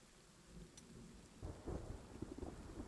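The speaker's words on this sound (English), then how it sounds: "And it's raining." Thunderstorm with rain in the strategy game Panzer Corps 2, a low rumbling roll of thunder over steady patter of rain, faint and distant in the mix with no talking.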